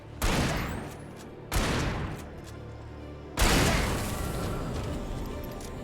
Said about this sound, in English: the spread on that shotgun is absurd